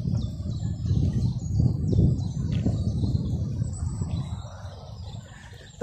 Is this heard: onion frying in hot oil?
no